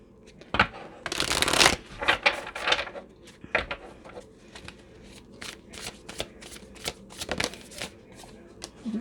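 Tarot cards are shuffled and riffled close by in irregular rapid flurries of crisp papery flicks and taps, with a louder burst near the start, and no talking.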